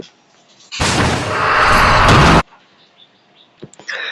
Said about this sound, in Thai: ไททันคาเมราแมนก็โดนในตัวนี้บึ้มขาหายไปข้างหนึ่งด้วยนะ